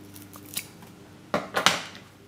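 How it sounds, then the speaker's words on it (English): Scissors cutting a T-shirt for making sandals, a couple of crisp close snips after quiet handling. "you need to use the scissors"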